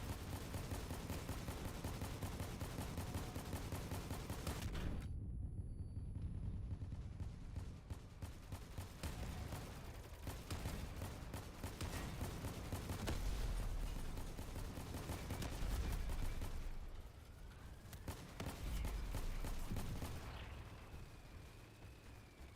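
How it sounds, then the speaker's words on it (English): Gunfire in an air battle video game: bursts of rapid shots and booming blasts come and go, broken by short quiet gaps, with steady engine-like noise underneath. "Alright, time to shoot this guy."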